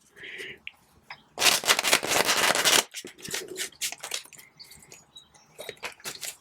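Oracle cards being shuffled in a loud riffling burst, with softer handling taps and brief speech-like sounds before and after.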